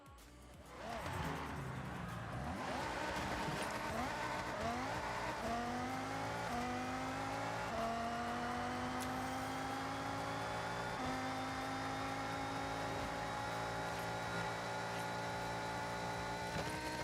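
A Mazda Miata races in the Forza video game, its engine revving up through the gears in repeated rising whines with tires squealing in the corners, loud and continuous.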